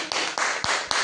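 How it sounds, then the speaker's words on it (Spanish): A church congregation claps together in a steady rhythm, four full, dense bursts of applause in quick succession. "Dale un aplauso al Señor"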